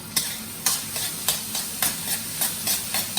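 Shrimp and veggie fried rice stir-frying in a hot wok, a steady sizzle broken by rhythmic scraping strokes of the spatula about twice per second, close and loud with no talking.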